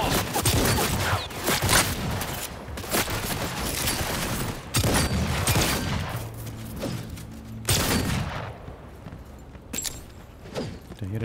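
Rapid bursts of gunfire and booming shots in the video game Cyberpunk 2077 Phantom Liberty, loud and dense throughout, with overlapping volleys, impacts and brief pauses between firefights.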